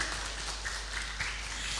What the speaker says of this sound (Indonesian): tepuk tangan buat yang sudah tampil hari ini